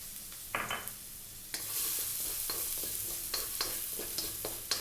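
Garlic fries in a little hot oil for a goat kaldereta, giving a continuous sizzle that grows louder partway through, with scattered clicks and scrapes of a spatula and no talk.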